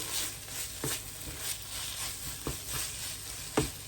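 Coriander leaves sizzle in a very hot pot while chutney for dosa is made, a steady close frying hiss broken by several sharp scraping knocks as the mixture is stirred.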